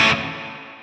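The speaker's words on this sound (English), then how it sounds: "We have a plate reverb. Much more splashy and kind of metallic sounding." A plate reverb on a Tonex guitar preset gives a brief distorted guitar hit with a splashy, metallic tail. The tail decays gradually and stays bright for about a second, with no voices.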